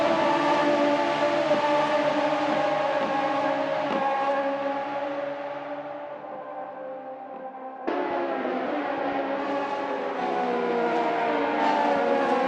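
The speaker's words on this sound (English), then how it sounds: "ceding the lead to Steve, who immediately consolidated this lead with some quick laps after an initial challenge from Alex going back into turn 6." Race cars in a sim racing video game, with continuous high engine whine that shifts pitch as they accelerate and brake, dipping briefly before surging back, steady and loud with no talk.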